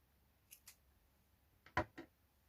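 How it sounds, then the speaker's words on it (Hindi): Scissors snip off extra crochet thread from a handmade crochet flower: two light snips, a short pause, then a louder close cluster of cuts, with no talking. "एक्स्ट्रा धागे को काट के"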